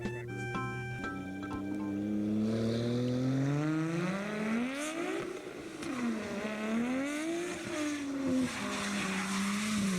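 A car drifting through donuts in both directions and then figure eights, its engine whining and rising and falling in pitch against a long, continuous tire squeal. The sound is loud and sustained and carries no voices.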